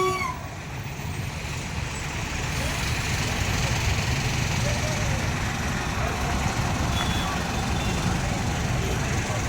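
Heavy road traffic crawling through a jam at Shilphata, with a steady broadband rumble of truck and vehicle engines idling and creeping forward, continuous and fairly loud throughout with no clear voices.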